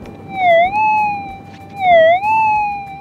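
A Minelab metal detector sweeping over a buried pipe outdoors gives two loud, swelling signal tones that dip and rise in pitch, heard alone over faint background noise.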